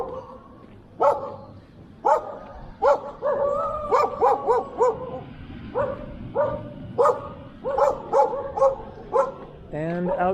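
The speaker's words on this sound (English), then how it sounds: "And more dogs." Several dogs in a run-down, war-damaged seaside area bark sharply and repeatedly at close to middle distance, in a quick, uneven series of yaps and woofs that ends with a whimper.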